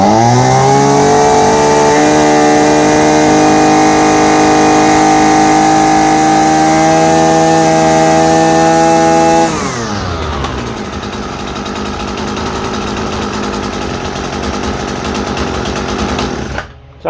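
A Husqvarna 326RJb weed eater's small two-stroke engine runs loud and close with a steady high buzz, then drops abruptly about halfway into a rougher, uneven low-speed idle that keeps going to the end.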